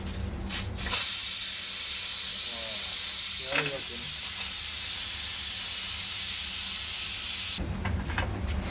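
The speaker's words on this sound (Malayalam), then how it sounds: "കുക്കറിന്റെ വിസൽ നന്നാക്കി കറങ്ങുന്നുണ്ട് കേട്ടോ" Steam hisses from a pressure cooker while mutton madhooth cooks, a loud, steady broadband rush that runs for several seconds before stopping abruptly. Brief faint sounds flicker at the start and midway.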